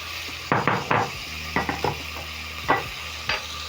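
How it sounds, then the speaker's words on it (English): Kenyan kunde (cowpeas) and onions being stirred in a pot, giving several short scraping strokes in clusters against a soft, steady sizzle, close and moderately loud with no talking. "And then I'm going to stir in together with the onions."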